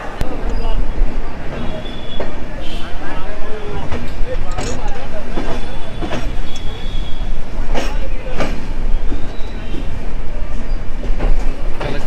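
The Coromandel Express pulls out of Rajahmundry railway station with a steady loud rumble, scattered metallic clanks and clatter, and station noise all around, while a person talks over it.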